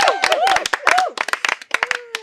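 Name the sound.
people clapping for a vote winner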